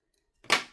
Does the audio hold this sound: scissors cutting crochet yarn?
yes